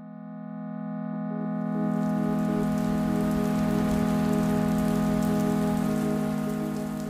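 Rain falls steadily through the night, a dense even hiss that swells in after a quiet start and holds throughout beneath a low, sustained musical drone.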